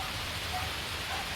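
Steady rain pours down and patters evenly on surfaces during a rest stop on the Sungay climb in Tagaytay, a soft continuous hiss with no voices.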